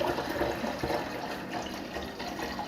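Mulled pumpkin spice apple cider poured into a container, a continuous soft liquid splashing and gurgling stream, close but fairly quiet, with no talking.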